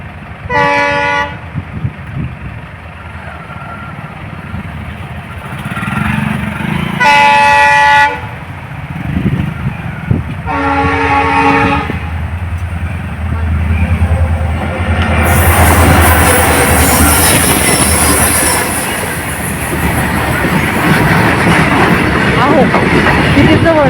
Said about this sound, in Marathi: येईल ट्रेन आता थांब